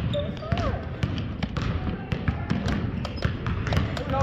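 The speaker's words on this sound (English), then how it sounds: "Keep dribbling all the way to the hoop." A basketball dribbled repeatedly on a practice court during a girls' one-on-one drill, steady thumps with hard-floor echo and gym noise, while people talk in the background.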